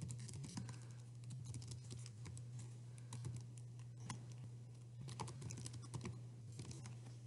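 Quiet, irregular clicking of keys on a computer keyboard in bursts, over a low steady electrical hum.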